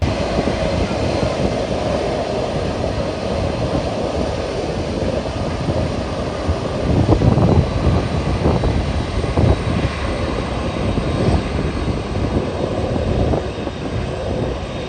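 Lufthansa Cargo MD-11F freighter jet at New York JFK airport on its retirement flight, a continuous loud engine roar with a swelling rumble midway, heard from nearby with no talk.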